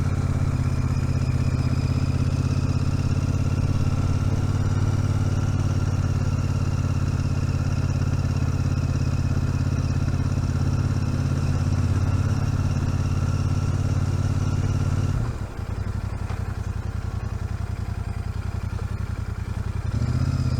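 A Royal Enfield Super Meteor 650 rides at walking pace, under 5 mph, its engine giving a steady, loud, close low thrum with a slight dip near the end and no talk.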